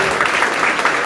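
A seated audience claps steadily right after a poem is recited during a talk on higher education and parenting, a dense, even patter of many hands filling the whole short moment with no voices on top.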